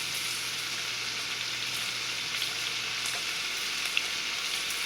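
Nearly cooked bacon with freshly added onions fries in a pan, giving a constant close sizzle with a few small crackles and no talking.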